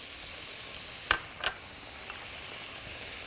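Garlic hitting a hot pan of broccoli gives a steady, fairly quiet sizzling hiss, marked by two brief sharp clicks from the pan in quick succession.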